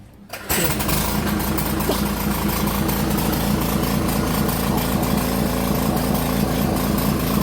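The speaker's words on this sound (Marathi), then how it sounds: "गिअर फिरतोय का आपला व्यवस्थित ते चेक करायचं" A battery-operated 6-inch chainsaw starts after a brief quiet moment and then runs steadily with its gear spinning, a loud close continuous motor whir.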